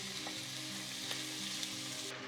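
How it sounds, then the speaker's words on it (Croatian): Meat for a burek filling is added to preheated oil in a pan and sizzles with a steady, close frying hiss throughout, with faint stirring and no voices. "sada ću dodati meso na ulje"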